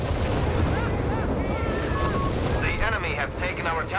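Nebelwerfer rocket barrage and artillery fire in a Company of Heroes 3 battle, a dense continuous roar of blasts and rumbling with whining tones layered through it.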